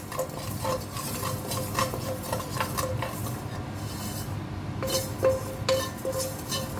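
A spicy biscuit mixture is stirred and scraped around a pan over a low-medium flame, a continuous close rubbing and scraping with light clinks and a soft sizzle underneath, no talking.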